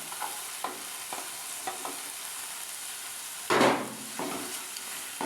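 Fresh ginger and onion mixed in a pan over low heat: a gentle continuous sizzle broken by several close spatula scrapes, one louder longer scrape in the middle, with no talking.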